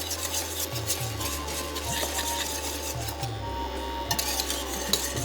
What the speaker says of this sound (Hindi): फिरनी का नाम इसीलिए है कि साहब फेरना पड़ता है इसको, तो फेरते रहिएगा बस।